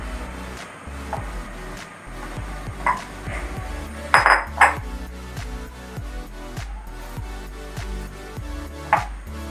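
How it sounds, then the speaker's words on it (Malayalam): Onion being sliced into rings with a knife on a board, a steady series of soft knife taps and cuts with a few bright metallic clinks, close and fairly quiet without talk. "നമ്മുടെ ഉള്ളി ഇതേപോലെ വട്ടം വട്ടം നുറുക്കി വെച്ചിട്ടുണ്ട്"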